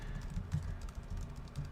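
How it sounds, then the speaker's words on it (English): Rapid, steady clicking of keys on a computer keyboard, close and soft, with no talking over it. "Sorry about the typing sound."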